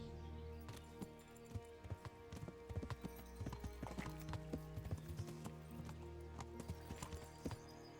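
Horse hooves clip-clop steadily in the medieval video game Kingdom Come: Deliverance, a continuous run of close hoofbeats over a bed of music and ambient game sound.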